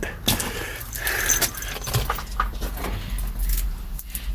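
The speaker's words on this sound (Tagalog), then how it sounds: "kinuha ko yung susi ng sasakyan namin" Car keys jingle and clink close by in short bursts, a light jangling that rises and settles over a faint background hum.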